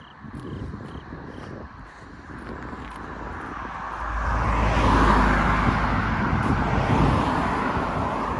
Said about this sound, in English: There's a car coming this way, so I've got to step off the road.